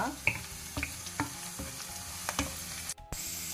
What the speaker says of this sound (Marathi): आतां वो पियाव भाजून आयलो म्हणटना आमी बेवासो पालो घालया